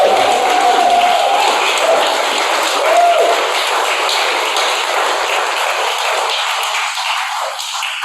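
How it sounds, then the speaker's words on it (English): Sustained audience applause after a poetry reading, a dense steady wash of many hands clapping that continues throughout and tapers slightly toward the end, with faint voices and a few brief tonal pings mixed in. "Another big round of applause"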